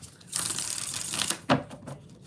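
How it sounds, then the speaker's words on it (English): Tarot cards being shuffled by hand during a card reading, a crisp papery riffle burst followed by a shorter flick and lighter rustles, close and fairly quiet, with no talking. "4 more shuffles."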